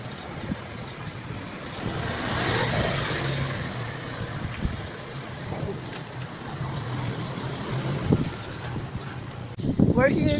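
Wind gusts buffet the microphone steadily on an outdoor morning jog, a broad rushing roar that stays loud throughout as people talk in between.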